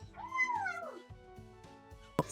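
A kitten meows in a rising, falling cry lasting about a second, close and clear, followed by a short sharp click.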